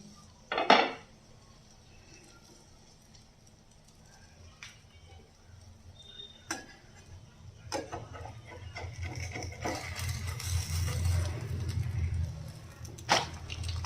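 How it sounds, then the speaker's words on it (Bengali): A lid is lifted off a cooking pan over a low gas flame: a sharp metallic clank, then sparse light knocks, and a sizzle that swells up once the pan is uncovered. "এবার আমি ঢাকনাটা খুলছি"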